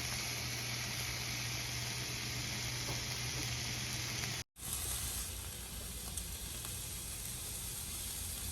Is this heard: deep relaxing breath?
no